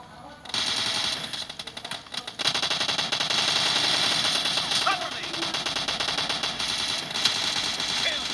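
Rapid automatic gunfire in the PUBG video game, dense bursts of shots crackling almost continuously at close range, with a voice talking over the shooting.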